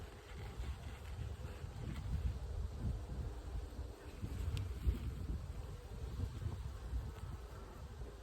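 Honey bees hum around an open hive while two colonies are merged, giving a low, steady buzzing drone at moderate volume that stays even throughout with no voices.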